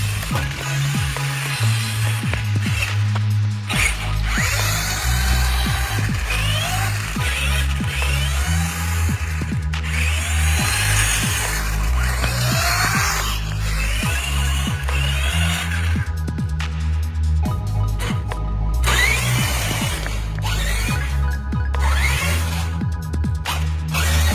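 Radio Shack Mattracks Hummer RC truck, rebuilt with a new motor, battery and electronics, running on a test drive: a steady electric motor whine with shifting pitch and gear noise, loud and continuous throughout, no talking.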